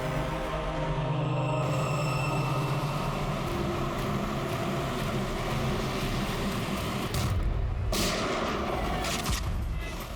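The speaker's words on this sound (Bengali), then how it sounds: "চালাও গুলি।" Loud, dense blasts of gunfire from a TV crime drama fill the whole stretch, with a heavy rumbling low end, two sharper bursts near the end and no speech over them.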